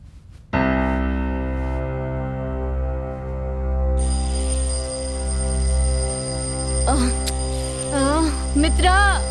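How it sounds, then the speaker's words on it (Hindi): An alarm clock rings with a loud, sustained, buzzing tone that carries on without pause, while a voice speaks over it toward the end. "अलार्म बज रहा है।"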